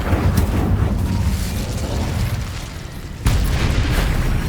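An Incendio fire spell is cast in the video game Hogwarts Legacy, giving a loud roaring, crackling burst of flame that rumbles steadily and then swells again with a sharp second whoosh.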